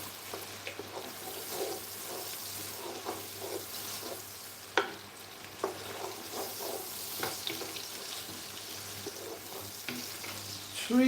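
A big onion sautés in a pan for a chicken curry, giving a soft, fairly quiet sizzle with intermittent spoon stirring and scraping, plus a few sharper knocks close by.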